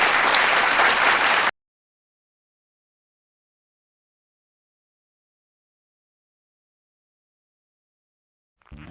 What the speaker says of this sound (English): Please give a big round of applause for Tanya.